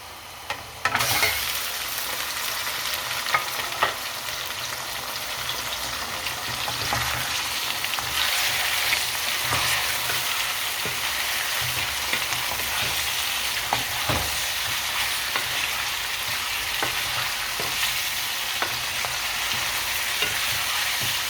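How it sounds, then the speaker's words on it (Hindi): Mutton pieces fry with light-browned onions in a karahi, a loud continuous sizzle with crackling pops and occasional stirring scrapes that runs steadily throughout without any talking. "प्याज हमारा लाइट ब्राउन हो गया तो इसके अंदर मैं गोश्त डाल देती हूँ।"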